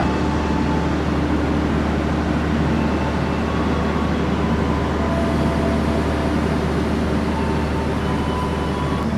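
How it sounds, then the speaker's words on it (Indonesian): The Senja Utama Solo passenger train, with executive and economy stainless new-generation cars, sits at Purwokerto station at night, giving off a loud, unbroken low rumble and mechanical hum that holds steady throughout. "Di sini kita bertemu dengan kereta api Senja Utama Solo dari stasiun Solo Balapan"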